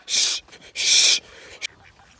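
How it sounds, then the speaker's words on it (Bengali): Two loud, raspy duck quacks close by, followed by a shorter, fainter call, with quiet gaps between them. "কতগুলো হাঁস"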